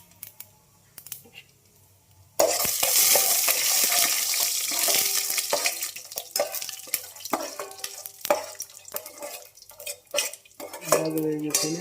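Whole spices (mustard seeds, cumin, cloves, marathi moggu, cinnamon and star anise) dropped into hot oil in a pan for kuska, bursting into a loud close hiss after quiet clicks, then crackling on with spatula clatter and scrapes.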